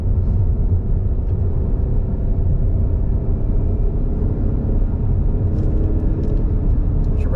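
A 2021 Mazda 3 turbo with 250 hp, driven in sport mode on paddle shifters, gives off a steady, loud low rumble throughout, with engine and road noise blending into one continuous drone and no speech.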